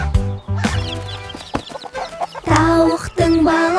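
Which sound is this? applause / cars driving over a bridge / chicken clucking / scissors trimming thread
chicken clucking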